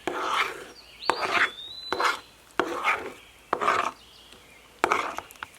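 Slime is being worked together with activator by hand, making repeated soft squelching and sticky rubbing bursts about once a second, close and with no talk.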